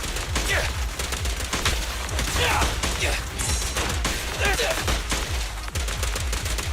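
Loud, rapid bursts of gunfire crackle in Zenless Zone Zero, a near-continuous volley of sharp shots with brief gaps, mixed with game effects.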